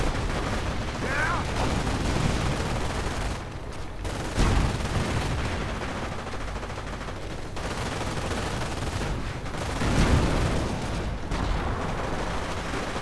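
Mortar, machine gun and Nebelwerfer fire in a World War II strategy video game battle, with dense continuous gunfire, bursts and heavier booms layered under a commentator's voice throughout.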